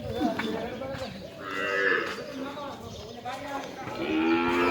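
A cow at the Bajrang Seva Trust cow shelter in Gela, Gujarat, lets out several long, close, resonant moos with brief pauses between them.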